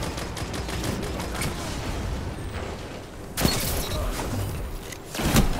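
Gunfire in Destiny 2, heard as rapid clattering bursts of shots with sharper booming impacts partway through, loud and close.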